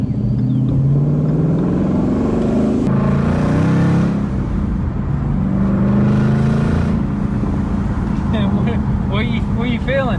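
Supercharged, previously wrecked 2017 Ford Mustang GT accelerating up through the gears, loud continuous engine roar rising and dropping with each shift, heard from inside the car while people talk over it.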